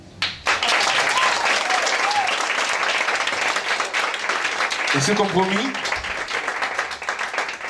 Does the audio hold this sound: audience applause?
yes